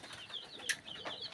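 Birds in a poultry brooding area make soft cooing and clucking calls, faint and layered, with a brief sharper chirp standing out among the low murmur.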